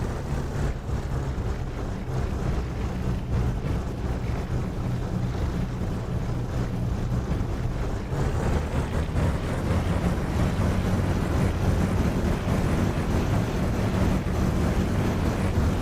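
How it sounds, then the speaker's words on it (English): Aircraft engines in the DCS flight simulator game run rough after idling a long time, giving a constant heavy low rumble with slightly uneven texture that grows a little louder partway through, with no talking. "the engines were running a bit rough because they've been sitting there on idle all that time"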